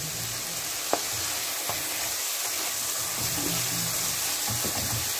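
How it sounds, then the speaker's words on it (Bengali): Chicken frying in a pan of cooked-down spice paste for a potato curry, a low steady sizzle with a few soft clinks and stirring scrapes, close and fairly quiet. "কষানো হওয়ার পরে আমি এখানে চিকেনটা দিয়ে দিলাম"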